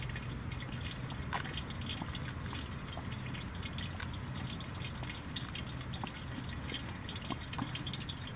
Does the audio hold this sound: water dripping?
yes